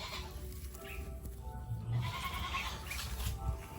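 Goats bleat intermittently against a steady outdoor background, the calls moderately loud and spread across the clip.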